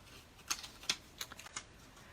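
Cut card stock pressed through an embossing machine inside a snowflake embossing folder gives several sharp, clicky mechanical clunks at irregular intervals, fairly close and moderately loud, with no talking.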